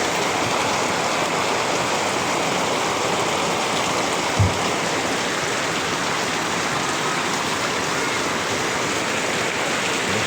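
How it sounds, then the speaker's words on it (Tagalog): Heavy rain pours steadily onto a vegetable and fruit garden, a dense, loud, unbroken hiss of downpour lasting throughout, with one brief low thump midway and no talking. "Biglang buhos ng ulan, basa lahat ng gulay."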